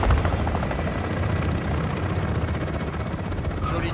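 An attack helicopter in Call of Duty Modern Warfare II, its rotor chopping loudly and steadily throughout at close range, with no voices over it.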